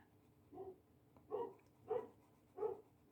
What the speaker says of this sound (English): My neighbor's dog is deciding to take off barking.